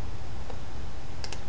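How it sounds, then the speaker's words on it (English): A computer mouse clicks on an open button: one faint click, then a quick pair of sharp clicks, over a constant background hiss. "Clicking the open button"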